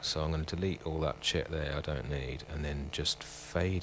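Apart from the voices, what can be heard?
No distinct noise like a dog, phone or traffic.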